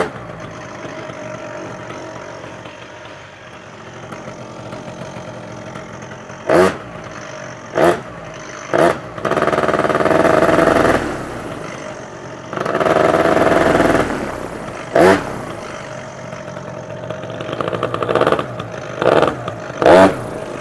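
A small paramotor engine on a multi-engine modular frame idles through its warm-up, a steady mechanical drone broken by several short, sharp bursts and two longer, louder throttle-ups.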